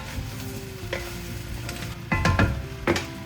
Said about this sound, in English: We're gonna go add in our butternut squash carefully. And give this a stir through.